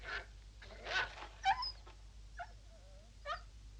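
A dog gives short, faint whimpering yelps and a few thin whines from some distance, scattered irregularly against a low, quiet background.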